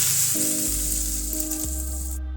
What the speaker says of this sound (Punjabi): ਗੈਸ ਨੂੰ ਬੰਦ ਕਰ ਦਵਾਂਗੇ ਤੜਕੇ ਨੂੰ ਆਪਾਂ ਪਿਆਜ਼ਾਂ ਵਿੱਚ ਪਾ ਦੇਵਾਂਗੇ